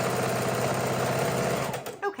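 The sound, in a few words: sewing machine stitching quilt blocks together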